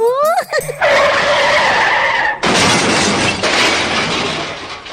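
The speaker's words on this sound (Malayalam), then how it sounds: "അതെന്തുവാടാ കേട്ടെ? നിന്റെ വണ്ടി ഇടിച്ചതല്ലേ?" A comedy sound effect of a car skidding: a sharp rising tire squeal gives way to a loud, sustained roaring crash-like rush that fades out slowly.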